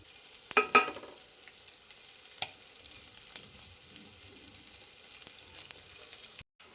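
Maggi noodles being stirred in a pan with tomatoes and chilli powder, a few sharp scrapes early on, then quieter intermittent stirring clicks over a faint sizzle.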